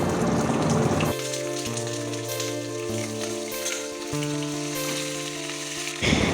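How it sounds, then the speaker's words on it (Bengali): Cut mangoes frying in hot mustard oil with dried chilies crackle and sizzle loudly and steadily, with a tonal hum running underneath much of the time. "এখন আমি আমগুলো দেওয়ার পর হালকা হাতে ভালো করে কিছুক্ষণের জন্য আমগুলোকে ভেজে নেব"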